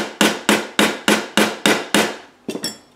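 A nylon hammer taps lightly on the chimney of a Hornby model train engine under restoration: about eight crisp, evenly spaced knocks, close and clear, then two quicker, softer taps at the end.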